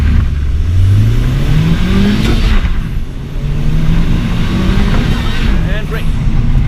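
A 2018 Honda Civic Type R accelerates hard, its engine droning loud and close as the pitch rises, drops at a gear change, then climbs again, with people talking over parts of it.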